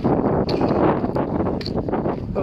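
Strong, steady wind buffets the microphone on a mountain summit ridge near Loch Glass and Meall an Tuirc, a continuous loud roar with gusty surges and no voices.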